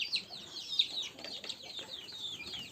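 Chicks and chickens in a backyard coop cheep and cluck in a busy, continuous chatter of high, overlapping calls, fairly close.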